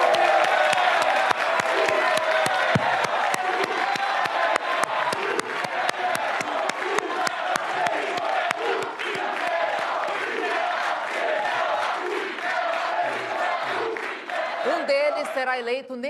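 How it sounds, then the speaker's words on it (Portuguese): A large studio crowd at a televised Rio de Janeiro mayoral debate applauds and cheers the two candidates loudly, with dense clapping, whoops and shouts sustained throughout. "Vamos receber com uma salva de palmas os dois candidatos, Marcelo Crivella, do PRB, e Marcelo Freixo,"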